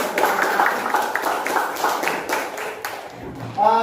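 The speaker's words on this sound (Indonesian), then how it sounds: "tepuk tangan luar biasa" An audience claps after a lesson presentation in a classroom, a fairly dense spell of hand claps that thins out before a voice comes in at the end.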